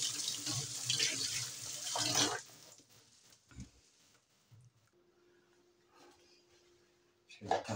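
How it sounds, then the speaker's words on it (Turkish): Water runs from a kitchen tap as hands are washed while cooking creamy mushroom chicken sauté, a close rushing splash that fades into quieter handling noises and faint talk. "elimi yıkayayım da"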